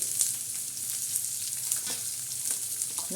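Onion and green chilies hit hot oil in a pan for a village-style moong dal tadka, producing a bright, continuous close sizzle with faint stirring taps.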